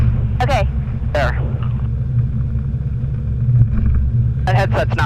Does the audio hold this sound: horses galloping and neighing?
no